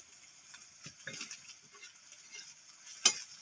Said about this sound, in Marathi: त्याच्यामध्ये आलं लसूण टाकून असं मिक्स केलं भाजून घ्यायचे